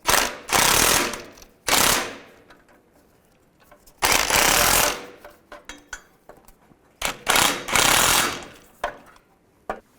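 Ratchet wrench tightening the exhaust manifold nuts on a 2002–2009 Chevrolet Trailblazer: loud bursts of rapid metallic clicking with quieter clinks and gaps between, close up and with no talk.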